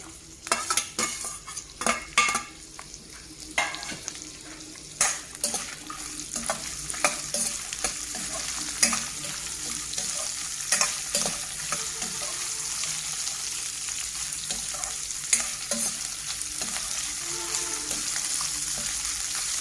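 Onions, peppercorns, cardamom pods and cumin seeds frying in a pan for spicy chicken, loud scraping stirs and clinks early, then settling into a steady close sizzle.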